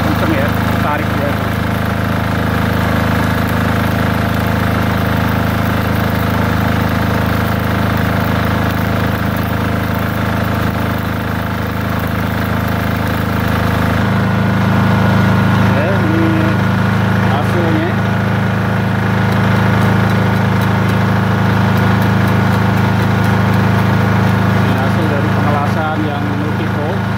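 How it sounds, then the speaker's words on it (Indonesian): A Multipro generator set powering a welding machine runs loudly and steadily nearby, its constant engine drone and low hum unbroken throughout, with a slight shift in pitch partway through. "Gensetnya suaranya lumayan cukup kenceng ya"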